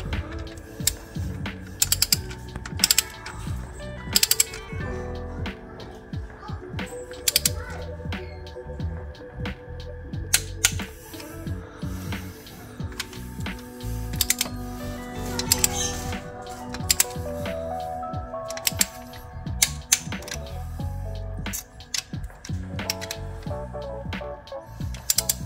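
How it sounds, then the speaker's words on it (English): A torque wrench ratchets down small bolts holding a component on the head of a Holden Monaro CV6 engine, set to 25 pounds: close, repeated clicking bursts in irregular runs with brief pauses, no talking. "All right, torque wrench time."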